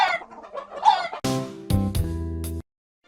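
A hen clucks in short bursts after a sung counting rhyme, followed by a brief stretch of bright musical chimes, all close and clear before falling silent.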